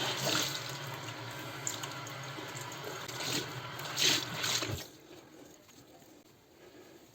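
White laundry hand-washed in water with white vinegar: steady splashing and sloshing of wet fabric in a basin that stops abruptly, leaving quieter dripping.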